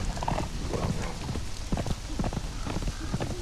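Horse hooves gallop in the video game Conan Exiles, a steady fast clip-clop rhythm running close and continuous throughout, with a faint whinny mixed in.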